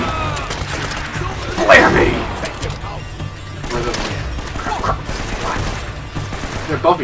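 Gunfire in Uncharted: Drake's Fortune, a burst of sharp shots near the start followed by scattered bursts of a firefight, with game sounds and talk mixed in throughout.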